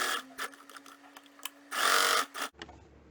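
A domestic sewing machine stitching a pillow cover, with short whirring bursts and a longer run of rapid needle chatter, close and clear, then stopping abruptly into quiet.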